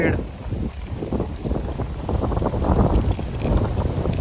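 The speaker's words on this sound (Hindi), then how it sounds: "मगर हवा चल रही है भाई बहुत तेज़।" Strong wind roars and buffets the microphone continuously on the bank of the Ganga in early morning, rising and gusting, with a voice speaking Hindi underneath.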